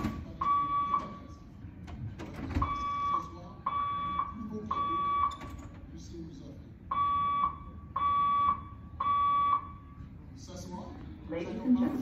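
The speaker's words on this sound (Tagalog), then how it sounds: "The fire alarm has been activated." A building fire alarm sounds in repeated loud electronic tone bursts, about one per second in groups with short gaps, while people talk and move in the background.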